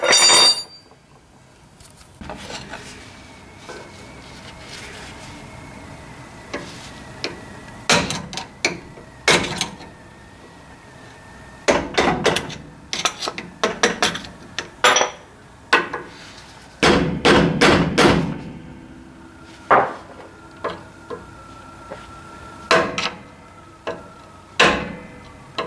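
A hammer strikes metal again and again to punch an I-beam bushing out from the back on a 1973 Ford F100, sharp close ringing blows in irregular clusters with quiet gaps between them.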